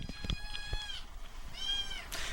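A kitten meows twice at an adoption shelter, high thin cries close by, with a short gap between them and faint shuffling noise around them.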